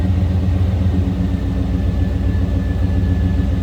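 A stock 5.7 liter V8 in a 1992 Chevrolet Silverado 1500 regular cab short box idles steadily from behind the truck, a loud, even low rumble with no voices.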